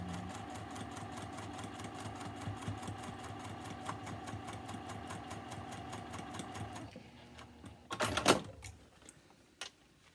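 A domestic sewing machine stitches a seam through a quilt, its needle running in a fast, steady rhythmic chatter for about seven seconds before stopping, followed by a brief rustle and a few handling clicks.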